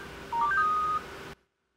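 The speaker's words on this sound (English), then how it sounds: "Getting like a lot of notifications." A phone gives a short run of electronic notification tones, a few quick rising beeps over a steady background hum, then cuts abruptly to silence.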